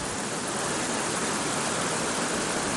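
Wallupt Creek Falls, a trail-less waterfall downriver from a lake campground, roaring as a dense, steady rush of falling water heard up close with no voices.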